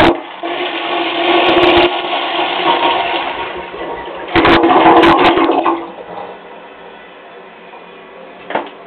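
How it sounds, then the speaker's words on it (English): A 1927 Douglas Gloria high tank toilet flushes loudly and close by, with a rushing gush of water that peaks midway and then settles into a softer refilling trickle. "Real flushing performance."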